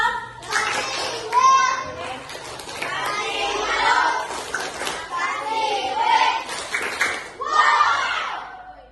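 A class of schoolchildren gives a rhythmic group clap-and-shout cheer for a fourth student group, with several bursts of clapping mixed with loud chanting voices, close and lively throughout.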